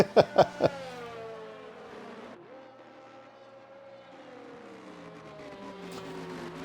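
Race car engines drone at steady pace in a racing video game as the field bunches up behind a safety car at the Canada round, with a few sharp bursts at the start before a sustained, shifting engine tone.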